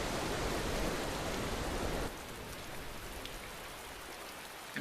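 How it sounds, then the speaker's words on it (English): Steady rain pours in a Tales of Berseria game scene, a dense hiss with no talk; it is louder for the first two seconds, then drops to a softer, even patter. "And very rainy."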